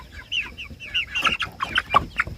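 Chickens being moved and fed, heard close up as a burst of excited clucks and squawks that grows busier and louder over a couple of seconds.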